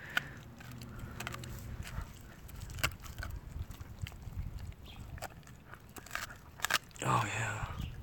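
A Siberian husky gnaws and crunches on a bone, with irregular faint bites and cracks at close range, a louder crunch near the end, and low background noise.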